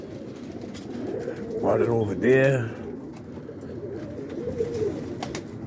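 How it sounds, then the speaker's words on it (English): Kit pigeons of the roller breed cooing outdoors, a couple of throaty rolling coos in the middle of the clip, fairly close, over background noise, while someone speaks briefly. "Got some of the kit birds out."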